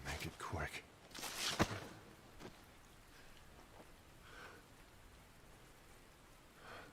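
Rain from the video game Kingdom Hearts Unchained χ falls as a soft, constant hiss at low volume, with a few brief louder splashes and bursts near the start.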